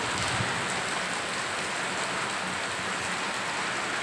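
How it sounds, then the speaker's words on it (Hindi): Steady rain falls outdoors, a dense continuous hiss of drops hitting surfaces, close and unbroken throughout with no voices. "ये बूंदे हो रही है"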